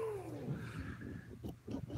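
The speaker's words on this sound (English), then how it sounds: "Do you hear Tabby at the door" A cat outside a door gives a drawn-out, falling yowl, then low growling cries, fairly close and loud in a home setting.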